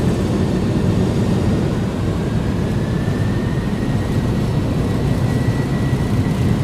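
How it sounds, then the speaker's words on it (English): Airliner engines spooling up toward takeoff power on departure from San Diego, a loud steady roar with a rising whine heard from inside the cabin. "Long time to get to takeoff power here in this aircraft."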